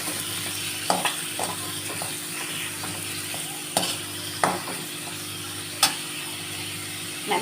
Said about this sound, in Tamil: நல்லா ஃப்ரை பண்ணி எடுத்துக்கலாம்.